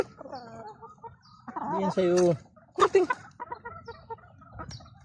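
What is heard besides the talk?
hens clucking as they approach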